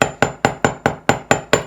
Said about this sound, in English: I'm doing it with a flat, polished faced hammer